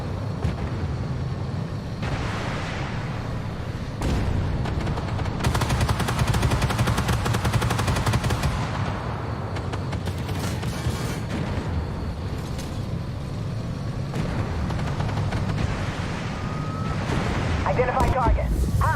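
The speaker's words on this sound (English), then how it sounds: "In the game, the autocannon is also functional." Autocannon and heavy gunfire in the tank game Armored Warfare, a steady dense rumble of shots and booms throughout, with a voice speaking over the combat.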